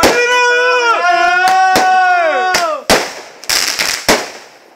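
New Year fireworks outdoors: a long rising-and-falling whistling tone dominates first, then several sharp bangs and crackling bursts follow in quick succession.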